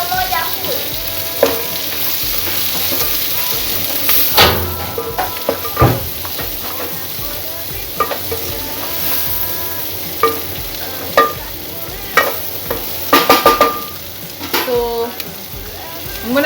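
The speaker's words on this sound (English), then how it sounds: "So at this point, I'm gonna add in my onions." About one and a half onions fry in a pan for a mashed potato and beef dish, giving a loud steady sizzle close up, broken by scraping stirs and clinks, with no talking.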